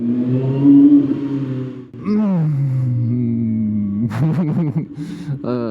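A Kawasaki ZX-6R motorcycle engine idles and revs nearby, a steady hum broken by a rising blip and a burst of quick throttle stabs, while a rider talks over it at times.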